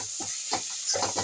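A spatula stirs lentil curry in a pan, making soft, rhythmic scraping strokes, about four in quick succession, over a faint steady hiss of gentle cooking.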